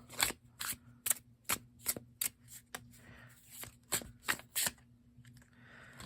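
Tarot cards being shuffled overhand, a series of crisp, quiet riffling bursts in an uneven rhythm, about a dozen soft slaps and flicks close up against a faint steady hum.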